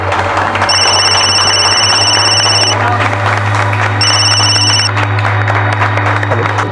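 A telephone rings in two electronic bursts, the first longer than the second, over a steady low hum and busy background noise.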